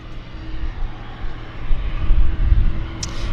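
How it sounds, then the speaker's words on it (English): A WestJet Boeing 737 MAX bound for Calgary rolls past at an airport, its jet engines giving a loud, steady roar that swells slightly toward the end. "The MAX is going to Calgary."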